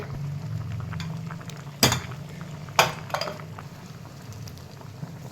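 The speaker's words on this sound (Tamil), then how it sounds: "நல்லா கொதிக்குது." Soft bubbling simmer from a pot of sambar with a few sharp metallic clinks of a lid or utensil against the rim.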